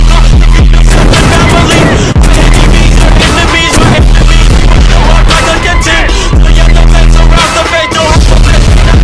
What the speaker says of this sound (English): I'm gonna blast huge holes with this giant cannon!